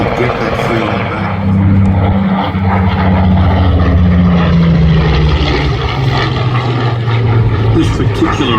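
A Spitfire Mark 5B flies at an air display at the Midlands Air Festival, its engine a loud, continuous droning roar that slowly shifts in pitch as it passes, with a voice talking over it.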